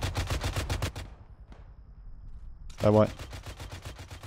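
Automatic machine gun fire in the ARMA 3 military combat game, a close burst of rapid shots that cuts off, then resumes after a short gap, while a voice briefly speaks over it.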